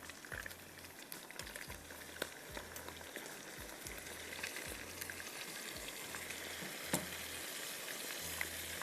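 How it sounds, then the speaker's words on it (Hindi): Chopped tomatoes sizzling in a pan for chicken ginger, a faint steady frying crackle with occasional light clicks, low and even throughout. "चॉपराइज टोमेटोज़ डाल देंगे और नमक डालेंगे।"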